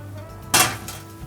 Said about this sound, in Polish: Układam tu i wsadzam wszystko do pieca, aż skończę resztę.